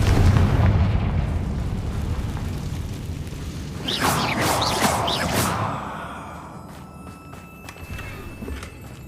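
A Confringo fire spell explodes in the Hogwarts Legacy video game, a loud burst with crackling flare over a rumbling, steady game ambience, trailing off into a quieter hum.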